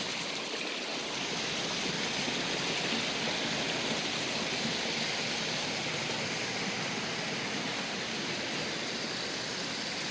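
Water from a backyard pond's waterfalls pours in a steady, unbroken rush, loud and close, with no voices over the constant hiss.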